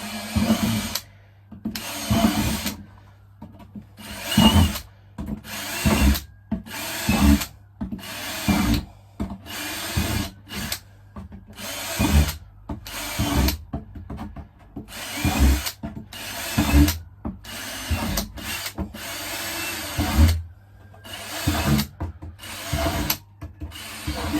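A power drill whirs in repeated short bursts, stopping and starting as it bores drainage through a bonsai pot, with grinding and rubbing between runs.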